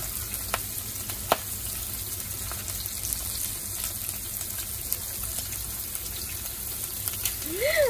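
Potka snack frying in hot oil, a steady soft sizzle with a few sharp pops and crackles, fairly close, and a brief voice near the end.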